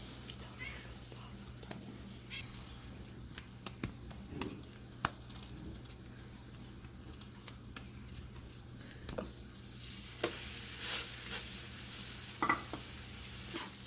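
Cheese pupusas in oil on a hot grill give a steady, soft sizzle and crackle with scattered pops and scrapes, growing louder and busier toward the end, while a voice murmurs quietly.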